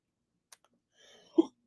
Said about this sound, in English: Sorry, got the hiccups.